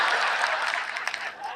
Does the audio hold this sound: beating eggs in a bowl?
no